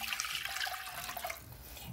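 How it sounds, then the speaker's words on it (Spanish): Water poured into a pot of yellow rice while it cooks, a soft steady splashing trickle lasting about two seconds, quiet and close with no voices. "Entonces, una vez lo tengamos de esta forma, vamos a agregar el agua"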